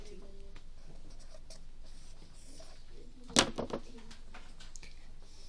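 Pen or pencil scratches out math problems in steady, soft strokes under faint background noise, with a brief sharper clatter midway.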